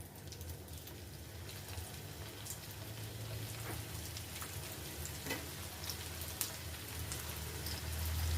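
Potato khasta rolls deep-frying in hot oil, a steady hiss and crackle of bubbling oil that holds even throughout, with faint low hum beneath.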